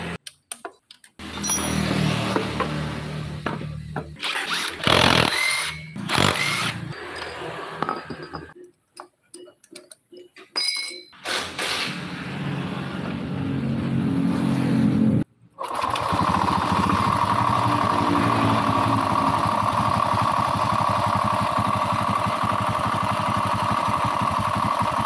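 A Honda Beat scooter engine with an abnormal internal noise runs close by, starting and revving in uneven bursts with ticking and rattling, then settling into a steady loud idle.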